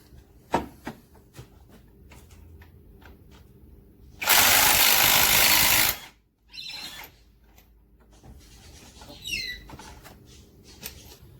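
A ratchet works the pulley nut on the engine of a 1996 Ford EL Falcon: scattered close clicks and squeaks, then one loud, harsh, sustained burst of about two seconds, followed by more light mechanical rattling.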